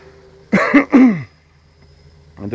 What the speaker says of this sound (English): And the horrible cough.